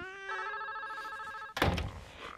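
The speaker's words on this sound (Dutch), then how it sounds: "Dan giet de telefoon." A telephone bell rings steadily for about a second and a half, fairly close, then a loud thunk and rustle cut in as it is picked up.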